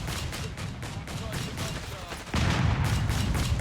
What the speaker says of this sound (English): There's the mortar barrage.